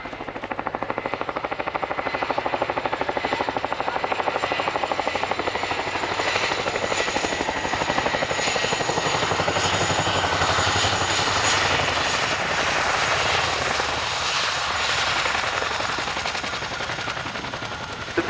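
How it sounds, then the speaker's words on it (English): An RAF Chinook twin-rotor helicopter makes a running landing at an airshow at RAF Cosford, its rapid rotor blade slap thudding loud and continuous over a roaring turbine engine throughout. "Landing, or two-wheel taxi, is a skill that is unique to the Chinook helicopter"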